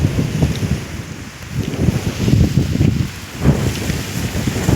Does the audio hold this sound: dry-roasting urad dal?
no